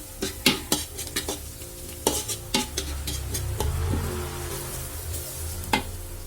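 Beef for tapsilog is stir-fried in a pan until almost golden brown, a steady sizzle broken by sharp scraping stirs of the utensil against the pan, close and clear.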